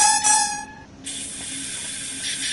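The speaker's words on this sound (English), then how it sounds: "You can still hear the brakes releasing." Air brakes release on a train in Train Sim World 3, on the German Bremen–Oldenburg line: a tonal whine cuts off, then a steady, loud hiss of escaping air holds on alone.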